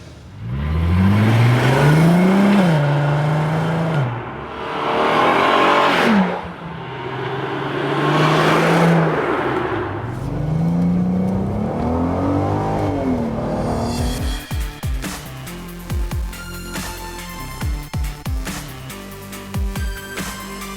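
A Mark 4 VW Golf R32 with its VR6 engine driving and accelerating, loud repeated rising revs through the gears with clear shift dips, followed by a rougher, sputtering engine note near the end.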